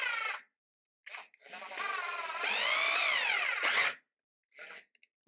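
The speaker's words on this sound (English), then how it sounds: "So I've got my drill driver here. I'm going to line it up with that first hole." A drill driver whines in bursts drilling through drywall into a stud, rising and falling in pitch as it revs up and spins down, close by, with short pauses between runs.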